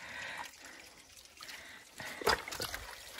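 Water trickling and flowing in a natural rural stream as it is pumped out to catch fish, a steady soft pour with a few sharper splashes later on.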